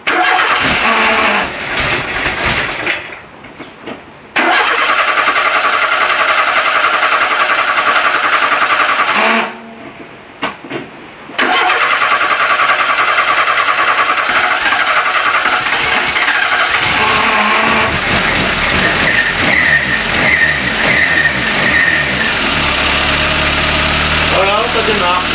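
A Renault 11 engine is started with the choke pulled, cranking briefly, then catching and running loudly at a steady idle, with someone talking over it.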